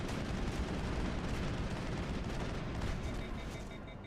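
Gunfire from the video game Mass Effect 1, a dense, continuous barrage of rapid shots and blasts filling the whole stretch at steady loudness, with no pauses between bursts.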